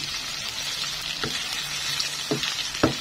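Pork frying in a pan for ginisang monggo, a steady close sizzle with a few sharp scraping stirs near the end, no talk.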